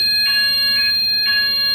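A fire alarm panel beeps in a steady pulsing pattern, a shrill repeated tone sounding about twice per second over a constant hum.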